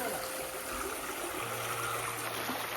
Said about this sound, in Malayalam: നല്ല ഒഴുകുന്ന വെള്ളം.